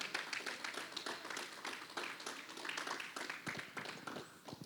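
A church congregation claps along together, with a soft, dense patter of many hands heard from a distance and no clear voices.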